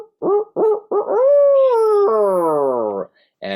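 A voice imitates an owl's hoot to provoke turkeys into gobbling, several short clipped hoots followed by a long drawn-out wavering call, loud and close, then a brief start of speech.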